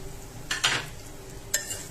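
A spoon stirs rice with vermicelli in a cooking pot, with a few close scraping swishes separated by quieter pauses over a low kitchen hum. No one speaks.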